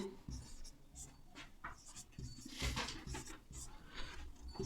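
Pen or chalk writing out a number-system math solution: a run of short scratching strokes and light taps, close but soft, over a low room hum.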